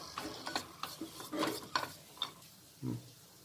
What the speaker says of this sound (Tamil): எடுத்து வச்ச நட்ஸ் எல்லாம் சேர்த்துடலாம் லைட்டாக வதக்கிக்கிடுவோம்